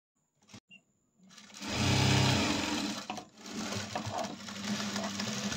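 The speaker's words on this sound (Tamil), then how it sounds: "அப்படி உள் பக்கம் திருப்பி ஒரு ஸ்டிச்சிங் போடலாங்க" A sewing machine stitches an inside seam on a blouse, starting after a couple of faint taps with a loud steady whirr, a brief pause, then another sustained run of close mechanical buzzing.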